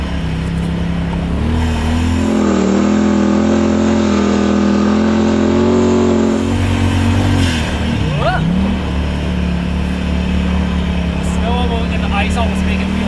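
A side-by-side UTV driving on ice in two-wheel drive, its engine droning steadily with rising and falling revs throughout, while a voice talks over the motor.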